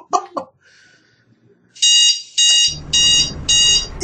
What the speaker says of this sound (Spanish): Y esa es la alarma.